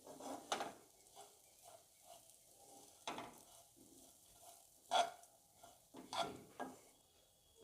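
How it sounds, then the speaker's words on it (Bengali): Vegetables being fried in a pan for a vegetarian home-cooked dish, soft sizzling broken by irregular scrapes and clinks of stirring with a utensil, close and fairly quiet with louder bursts. "ভালো করে ভেজে নেব এগুলোকে"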